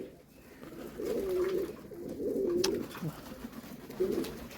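Pigeons kept in a small rooftop loft coo in soft, low rolling phrases, three drawn-out bursts close by with faint background noise between them.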